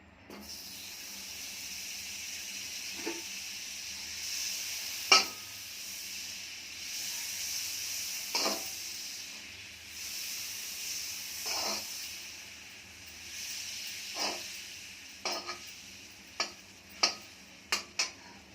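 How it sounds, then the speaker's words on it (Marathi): Butter melting in a pan with roasted sesame seeds for til laddoos, giving a soft, steady sizzle with occasional stirring clicks and taps, quiet and close. "आता आधी आपण बटर टाकूया"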